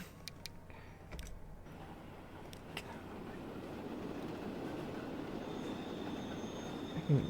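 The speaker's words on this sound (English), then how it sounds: "these trains are pissing me off" Trains rumble along the tracks in Transport Fever 2, with soft keyboard clicks early on before a steady rolling rail noise builds and holds, a faint squeal rising near the end.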